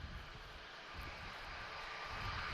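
An aircraft at Lisbon Airport beside runway 03, a steady, broad engine roar heard from a public road, even and unbroken throughout.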